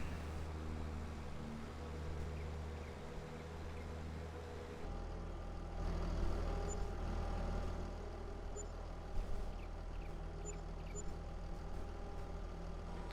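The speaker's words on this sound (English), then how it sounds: "We're going to have to repair our tractor soon." A struggling tractor engine in Farming Simulator 22 drones steadily at low pitch for the whole stretch, with a heavier, rougher rumble kicking in partway through and faint clanks over it.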